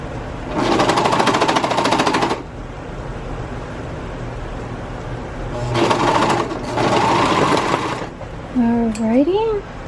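Sewing machine stitching a dress, running in loud close bursts: one long run, a pause, then two more runs, with a short whistle-like sound at the end.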